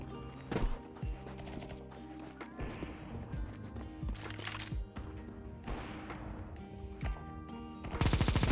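AK rifle fire in a Counter-Strike match: repeated bursts and single shots at varied distances over the game's background sound, ending in a loud close burst.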